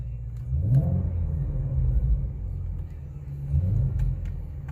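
A 2018 Mustang Shelby GT350 engine running in normal mode, heard from inside the cabin with the windows up as a steady low rumble that swells slightly a couple of times, fairly subdued.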